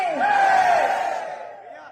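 A large election rally crowd roars back a unison chanted response, a single swelling shout that peaks quickly and then fades over about two seconds.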